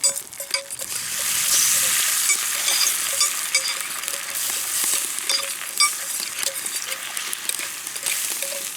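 Scrambled eggs frying in a pan over an outdoor Dakota pit fire, a loud steady sizzle with scraping stirring strokes and occasional utensil clicks against the pan, close and continuous with no voices.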